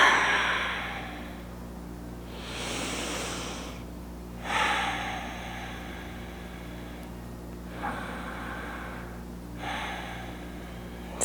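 Slow, deep breathing while holding a stretched yoga pose: long drawn inhales and exhales with soft nasal rushes, close and quiet, no talking.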